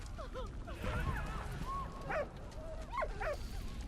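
A dog in the World War I game Valiant Hearts: The Great War whimpers and yips in a run of short, whiny cries, with a few sharper barks near the end over a busy game background.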